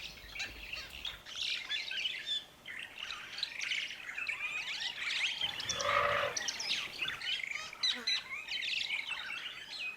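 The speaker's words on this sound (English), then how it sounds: "listening to the music of all this sound of the rupels, starlings, giving them a really nice talkative sound" Rüppell's starlings chatter in a busy afternoon chorus at Kogatende, with dense overlapping chirps and squawks that run steadily throughout and swell briefly in the middle, with no talking.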